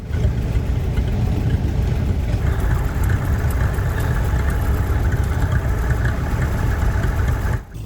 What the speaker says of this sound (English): Some very skilled loading here of the traction engine.